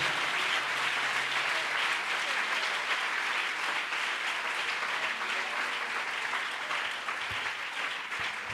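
Steady, dense applause from a church congregation at a worship convention service in Aruba, filling the whole stretch at an even level with no voices rising above it.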